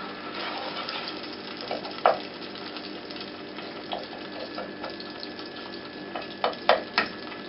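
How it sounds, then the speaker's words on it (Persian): A spoon stirs a kofteh Tabrizi mixture of meat, pepper and salt in a pot, giving soft wet scraping and a few sharper clinks against the rim over a faint bubbling background. "بعد هم می‌زنیم."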